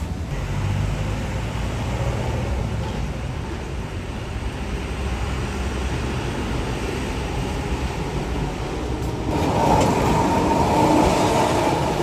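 A tram rumbles by in Alexandria, Egypt, with a loud, continuous roar and rattling, swelling slightly toward the end.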